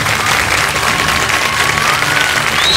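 Sustained audience applause at an award ceremony, dense continuous clapping from a large crowd, loud and steady throughout with a faint tone running underneath.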